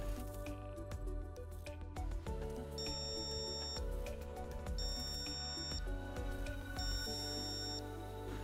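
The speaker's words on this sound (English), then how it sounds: "this will beep the buzzer with a 1 second interval" A passive buzzer on a Wio Terminal board beeps in a steady pattern, each short tone sounding about once a second over a busy background hum.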